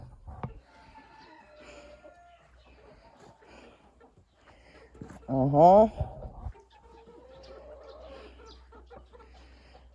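A rooster on a small backyard farm lets out one short, strong crow in the middle of a quiet yard, with faint bird chatter around it and a brief spoken word near the start.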